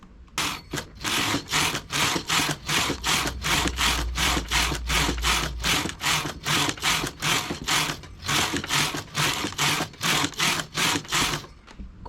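A knitting machine carriage is pushed across the needle bed row after row, giving a loud, fast, regular series of rasping, clacking strokes that pauses briefly near the middle and then resumes, with no voices.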